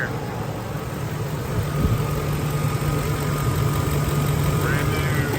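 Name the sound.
brand new truck engine running smoothly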